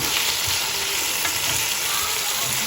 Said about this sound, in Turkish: O yüzden böyle sade kızartacağım